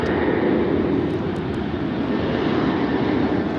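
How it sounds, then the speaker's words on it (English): A fixed-wing airplane flies low over a dog park beside LAX, its engine roar a loud, steady broadband rumble that holds throughout without a break. "So there's planes coming in and out."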